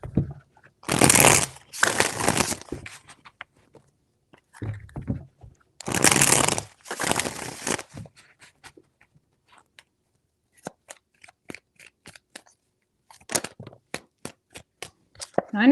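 Tarot cards shuffle in several quick riffling bursts, close and crisp, separated by pauses and light taps as the deck is handled.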